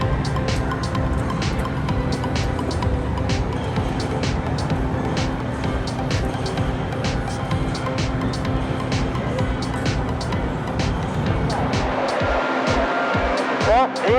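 Go-kart engines at the start of a race at RPM Jersey City, a steady dense whine of many small motors throughout, with a nearer kart passing toward the end.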